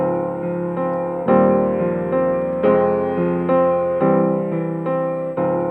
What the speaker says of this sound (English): I want to hear what this sounds like with a piano loop that I already have